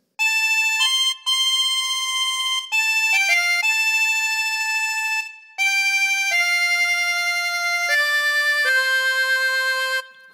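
A harmonica plays a slow phrase of Amazing Grace, sustained reedy single notes held and stepping between pitches with brief breath gaps, loud and close with no voices.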